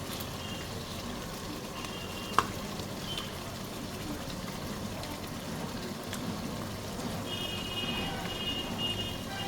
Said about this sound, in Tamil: நல்லா இதை கிண்டிக்கிறோம்